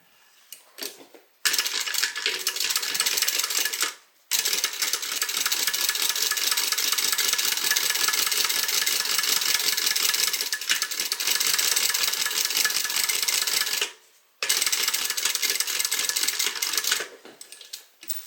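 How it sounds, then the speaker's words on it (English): A sewing machine runs in long continuous bursts, stitching a tote bag seam with a quarter-inch allowance, stopping briefly twice before starting again; close, steady and loud with no talking. "Then you're going to stitch this using a 1/4 inch seam allowance."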